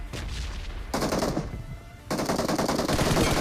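Rapid automatic gunfire in a mobile battle-royale shooter game, loud and continuous bursts of machine-gun fire across the whole clip with brief dips between volleys, no talk.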